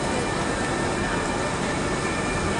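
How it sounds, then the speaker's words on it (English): Dense, continuous roar of a train at Toulouse railway station with steady rumbling noise, loud and close, no voices. "the first thing you see is the railway station and trains"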